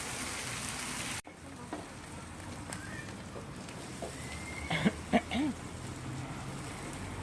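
Peppers, onions and garlic sauté in a pan for paella with a soft, continuous sizzle, and faint voices briefly rise over it partway through.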